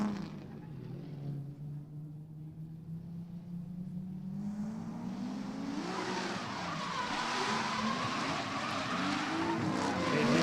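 Drift cars at a Drifting the Plains event, Nate Healy leading and Eli Van Natter chasing, their engines droning and rising steadily as the pair closes in, with a harsh broadband wash of tire noise building louder toward the end.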